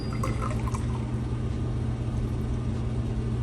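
Water steadily drains and pours from the tank of a countertop reverse osmosis system, a continuous close hissing flow with a low hum beneath, no talking.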